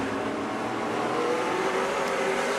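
A race car engine roaring on a dirt oval during an SRX heat race at Stafford, loud and continuous with a steady high drone, revving slightly as the car runs past.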